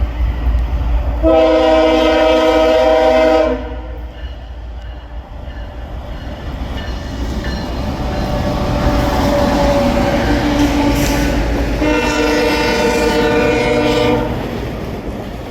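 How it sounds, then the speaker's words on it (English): An FRA inspection train on the CSX Grand Rapids line sounds two long, loud horn blasts with a rumbling, rolling passage between them, steady and close throughout. "there was an FRA inspection train to be handed over to Grand Elk"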